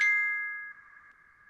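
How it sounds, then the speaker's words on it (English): A phone gives a single clear notification ding whose bright ringing tone fades out over about a second in a quiet setting. "A whole bunch of stuff that just came up on my phone."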